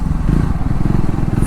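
A Triumph Scrambler 400X single-cylinder motorcycle engine runs steadily with a deep, rapid, even thumping pulse, close and fairly loud.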